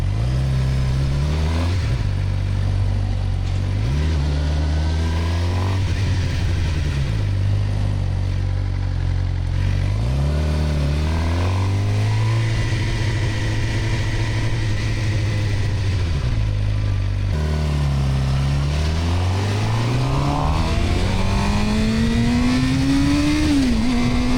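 Suzuki GSX-R600 sport motorcycle ridden on a road, engine loud and close throughout, revving up through the gears with repeated climbs in pitch and drops at each shift, then a long rising pull near the end.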